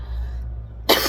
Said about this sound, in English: Now I'm coughing.